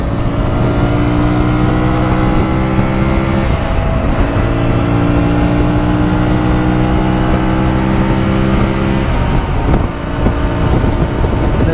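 A 2024 CFMoto 450MT motorcycle engine hums steadily while riding, a continuous loud drone with a pitch shift partway through and heavy wind rush over the microphone, with no talk.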